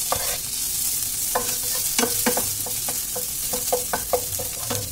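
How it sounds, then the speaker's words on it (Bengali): A spatula stirs salted food frying in a pan, scraping in a run of sharp, uneven strokes over a steady, loud sizzle. "এবার নেড়ে চেড়ে নেবো একবার"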